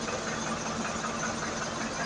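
A Tata 1109 truck from 2018 idles nearby with a steady, even mechanical rumble and fine rapid ticking, and no one speaks.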